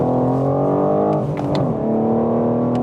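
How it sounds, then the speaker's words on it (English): Raspy inline-six of a 2021 BMW M4, heard close and loud as a steady, buzzing engine note that dips briefly and then holds on, with no talk. "that raspy inline 6 noise that you used to get from the E46 M3"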